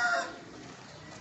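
A hen clucks briefly up close at the start, then a low background of faint farmyard fowl noise carries on at a buffalo farm in Pakistan.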